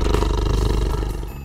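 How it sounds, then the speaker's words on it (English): A tiger roars in one loud, close, rumbling growl that holds steady for over a second before easing off, with nothing else heard. "A tiger makes a grr sound."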